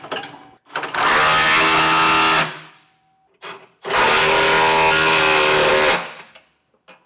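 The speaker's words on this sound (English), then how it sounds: "I'm going to get these four with a 3/4 socket." A power tool runs up on trailer hitch bolts with a 3/4 socket during a gooseneck hitch install on a 2025 Ford, two loud sustained whirring bursts of about two seconds each separated by a short pause, with light clanks between.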